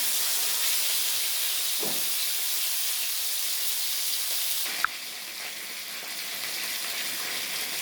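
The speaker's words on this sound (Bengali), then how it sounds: "বেশ লাল করে ভেজে নেবো মাছগুলো" Rohu fish pieces sizzle and fry in hot oil with a steady, loud hiss, broken by a short soft scrape near the start and a sharp clink midway.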